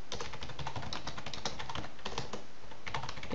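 Computer keyboard typing in a steady run of quick close keystrokes, entering text while building a website, with no talking over it.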